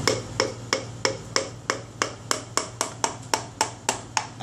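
Wooden block tapping a piston down into the bore of a Toyota 2E 1.3L engine block: about fifteen sharp, evenly spaced knocks, close and alone, with no talk.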